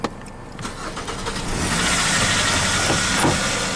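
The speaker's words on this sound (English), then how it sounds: "Activating the engine with a USB cord." A 2010 Kia Forte is started with a USB cord, the starter cranking briefly before the engine catches and settles into a loud, steady running roar with hiss, close up and without talk.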